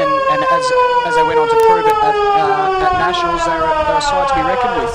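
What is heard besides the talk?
siren sounding at Gardens Oval football ground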